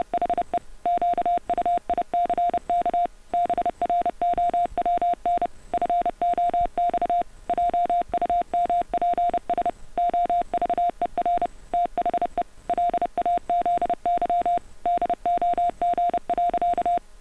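Electronic Morse code beeps spelling out the quick brown fox pangram, a loud steady tone keyed on and off in rapid dot-and-dash groups with short gaps, continuing without voice.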